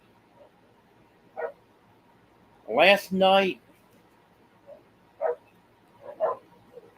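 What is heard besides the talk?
dog barking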